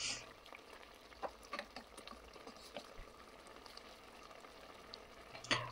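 Rui fish frying with spices in a pan, turned over now and then; a soft, steady sizzle with scattered small pops and clinks, fairly quiet throughout.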